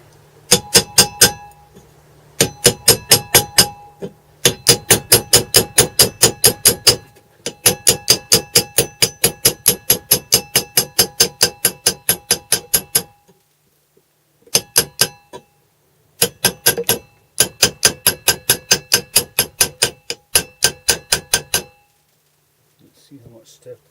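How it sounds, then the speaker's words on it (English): Rapid bursts of sharp metallic hammer blows on a motorcycle hugger bracket held in a vise ring out close by, coming in fast strings separated by short pauses. "what I can do is just kind of hammer it around a bit"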